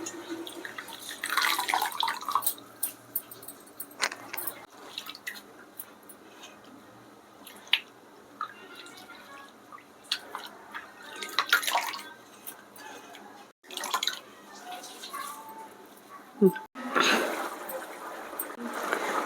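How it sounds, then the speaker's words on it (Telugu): Fresh tamarind leaves are washed by hand in a bowl of water, with soft intermittent sloshing, squishing and dripping at close range and brief quiet gaps between handfuls. "ఇదిగో చింతకూర అయితే నేను కడిగేసుకుంటున్నాను"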